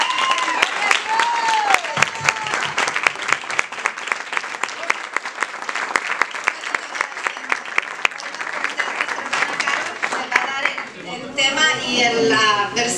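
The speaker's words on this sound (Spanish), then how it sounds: "que se levante y dé una ofrenda de palmas al Señor" Church congregation at a Sunday service claps together as an offering of praise, a dense, loud burst of applause running throughout with voices calling out over it.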